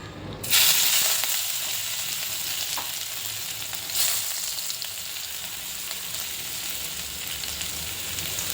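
A ginger, garlic and green chili tempering crackles and sizzles in hot oil, a loud steady frying hiss with a few sharper bursts, no voices.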